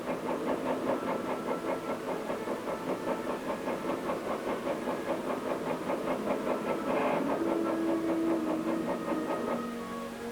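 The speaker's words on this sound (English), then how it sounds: "tank engine is started and operated from the control room." An army tank engine running in a test chamber, started and operated remotely from a control room, a steady rhythmic mechanical chugging with hissing, constant and fairly loud throughout, no voices.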